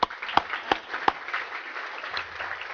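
Applause for school superintendents at a regional chamber of commerce luncheon: a few sharp, close claps stand out near the start over lighter scattered clapping from the room.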